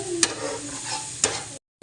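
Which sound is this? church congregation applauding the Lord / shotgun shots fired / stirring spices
stirring spices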